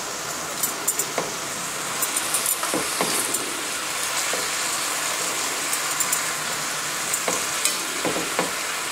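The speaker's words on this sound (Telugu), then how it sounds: "చక్కగా రెండు వైపులా తిప్పుకుంటూ మంచిగా ఫ్రై చేసుకోవాలి." Chicken fries in a pan with only a little oil, a constant close sizzle broken by a few soft clanks and scrapes as the pieces are turned, with no talking.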